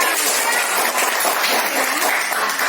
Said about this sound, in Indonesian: sekarang tepuk tangan dulu untuk kelompok 2